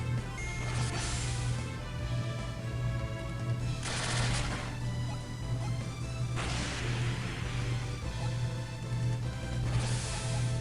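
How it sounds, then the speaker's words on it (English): A smoke bomb attack in the Golden Sun video game sets off repeated hissing, crackling bursts that swell and fade in waves over a steady low musical drone, with no voices. "Smoke bomb."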